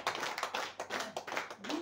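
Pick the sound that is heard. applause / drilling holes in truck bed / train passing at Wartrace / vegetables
applause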